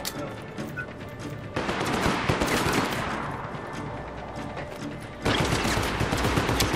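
Automatic gunfire bursts in the video game Just Cause 3, loud dense crackling volleys that swell and continue for several seconds with a sudden intensification near the end, alongside mechanical clatter.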